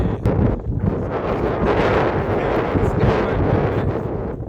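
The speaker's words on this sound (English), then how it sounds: "The wind blowing across, and the camera quite captures it." Strong gusts buffet the camera microphone on a misty, foggy hillside along the West Highland Way, a loud, rumbling roar that churns without a break.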